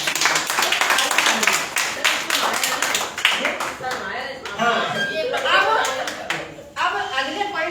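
Dense, loud applause from a full-day workshop audience, with many hands clapping steadily for several seconds under spoken voices.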